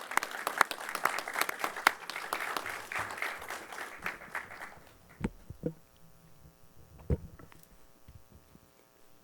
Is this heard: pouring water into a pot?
no